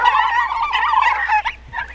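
Penned turkeys gobble loudly and close by in a continuous warbling chorus that breaks into a few shorter gobbles near the end, with no talking.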